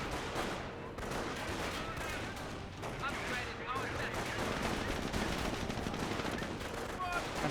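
Dense, continuous gunfire and explosions fill a Company of Heroes 1 battle between Panzer Elite and US forces, with machine-gun bursts layered over distant artillery and a voice speaking underneath.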